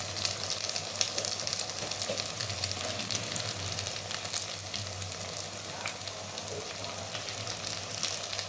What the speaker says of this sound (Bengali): আরও ভালো করে এটা একটু কড়া করে ভেজে নেব